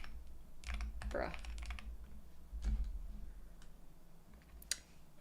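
Typing on a Keychron mechanical computer keyboard, clusters of crisp key clicks in quick bursts with short pauses, close and moderately loud over a low background hum.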